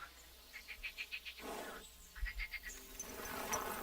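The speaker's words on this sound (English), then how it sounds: "I hear toads." Toads croak in a rapid run of repeated calls within the game Kingdom Come: Deliverance 2, two bursts of pulsed croaking separated by a brief rustle, with a steady outdoor ambience underneath.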